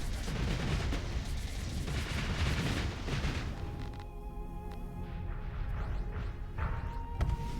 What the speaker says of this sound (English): Dude, these are the artillery missiles. These are slow movers, but if they hit you, they hit pretty hard